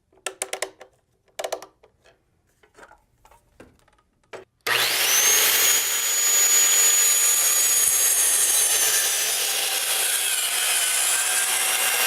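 A saw cuts through a wooden board for a simple table top. A few light knocks and handling sounds come first, then a loud, steady, continuous cutting noise runs unbroken to the end.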